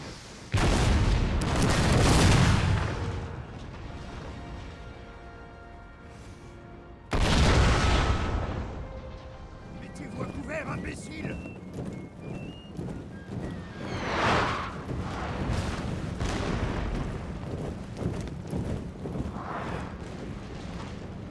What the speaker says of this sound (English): Okay, so the cannon's opening up on them quite nicely.